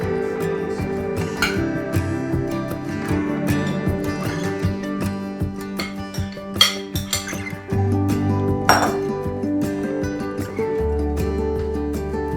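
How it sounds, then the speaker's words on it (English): Broccoli and chicken casserole tossed in a dish, with repeated clinks and scrapes of a utensil against the dish, some louder knocks, and a low hum under the close, uneven clatter. "Just toss it real good. Try to get the broccoli all blended in there."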